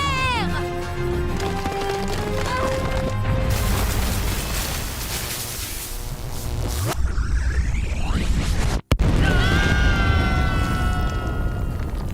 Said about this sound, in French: Quelle explosion!